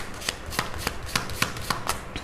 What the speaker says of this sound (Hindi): अब मैं 2 cards निकालूंगी for their next actions